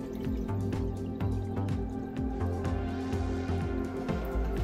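Liquid drips and trickles as an outdoor HDTV circuit board coated with waterproof electronic coating drains, with a rapid irregular patter of close drops over a steady low hum.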